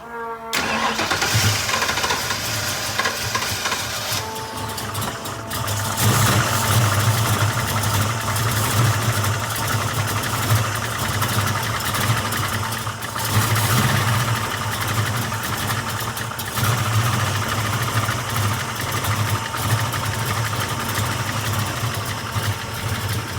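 Old-school muscle car fitted with an Anderson N91 cam cranks and fires up loud and close, settling into a lumpy, rumbling idle that pulses steadily and roars up in revs at points, with no talk over it.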